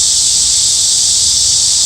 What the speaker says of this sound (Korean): 와 매미 소리 매미야 너무 시끄럽다